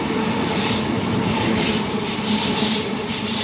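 A Sydney H set passenger train passes platform 2 at North Strathfield, a loud, close, continuous roar of wheels and carriages with a hissing rush and faint squeal, without talk.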